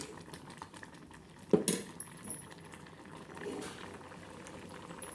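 Grated coconut being stirred into simmering sambar in a pot, a faint bubbling with a brief clatter of the spoon against the pot and soft stirring sounds, no talking.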